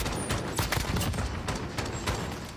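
Rapid gunfire from a competitive Search and Destroy match in Call of Duty: Modern Warfare, dense bursts of shots crackling continuously and loudly over a busy game soundscape.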